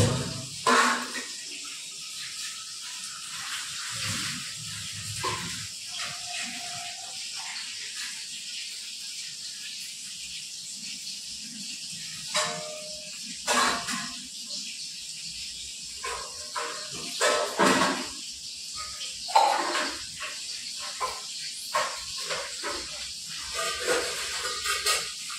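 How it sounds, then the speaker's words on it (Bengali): Fish frying in hot oil in a wok gives a long, uneven sizzle and hiss, with sharp spitting bursts and crackles breaking through a quieter background. "মাছ ভাজা হচ্ছে"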